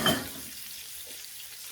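Fish belly sizzles briefly in a pan as its fat renders out, a soft, faint hiss with a slightly louder crackle at the start.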